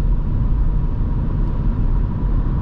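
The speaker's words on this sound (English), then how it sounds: "Now at 100 you can mostly hear tire noise, that's natural for cars" A steady low roar of tires rolling on rough tarmac, heard from inside a 2023 Dacia Duster 1.5 dCi at 100 km/h at night, constant and broadband with no talking.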